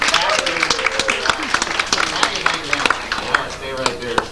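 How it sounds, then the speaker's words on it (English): An audience at a magic show claps steadily for the magician Mark Strider, a dense patter of hands with a voice talking over it. "Big round of applause for Mr. Mark Strider."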